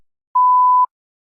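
A single clean electronic beep signals the start of preparation time on a TOEFL speaking practice test, one steady half-second tone alone in silence.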